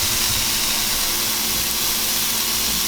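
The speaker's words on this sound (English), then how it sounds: "Listen to that sizzle." Marinated chicken sizzling in a hot pan while being seared, a steady dense hiss with crackle filling the whole moment, loud and close with no talking.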